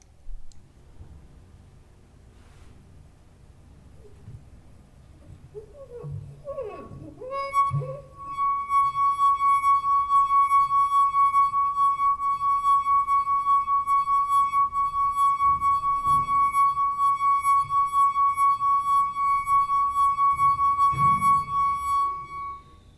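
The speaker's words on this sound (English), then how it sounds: "placing your finger on the rim, play the glass" Wet fingertip circling the rim of a glass of water, drawing out a steady, pure singing tone that rises in after a few seconds of faint rubbing and holds loud and unbroken for about fifteen seconds, with bright overtones ringing above.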